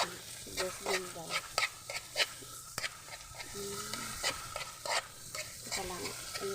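Stirring onions into corned beef frying in a pan: repeated scraping strokes of a utensil against the pan in an uneven rhythm over a soft continuous sizzle, close by, with quiet talking in between.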